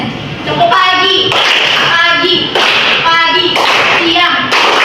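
A class of children clapping hands in rhythmic bursts for a classroom clapping game, with loud sharp claps in repeated groups and a teacher and pupils speaking between and over them.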